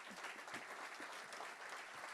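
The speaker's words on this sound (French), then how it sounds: "Vous l'applaudissez." An audience at an awards ceremony in Gers, France, claps steadily, a dense, even wash of applause from many hands with no voices on top.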